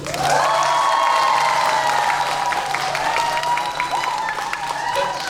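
A crowd at a town hall meeting cheers and screams in sustained high-pitched shouts, with scattered clapping underneath, loud and continuous throughout.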